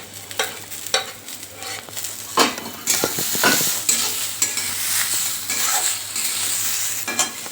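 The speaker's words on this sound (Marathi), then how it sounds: "1 मिनिट मी सर्व परतून घेतलेलं आहे" Fresh coriander is being stirred and sautéed with ginger, garlic and spices in a pan, giving repeated scraping strokes over a steady, close sizzle with clinks of a utensil against the pan.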